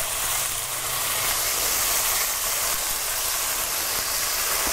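Gyoza cooking in a pan as the water cooks off, giving a loud, steady bright hiss of steam that runs unbroken throughout, close and alone.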